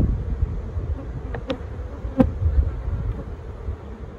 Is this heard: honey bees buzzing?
yes